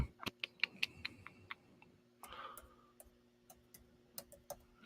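Keys on a computer keyboard being typed and clicked while entering text into a word processor, a run of sharp close taps in the first second and a half, then scattered single clicks after a brief rustle, with no talking.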